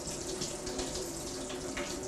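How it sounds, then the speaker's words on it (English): Hot water pours steadily into a cup, a continuous close splashing rush with no break and no voices. "Fill up a few cups hot water, nearly to the top"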